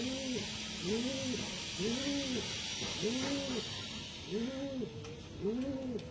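Pigeons cooing nearby, a steady series of about six rounded, repeated coos at even intervals over a soft background hiss.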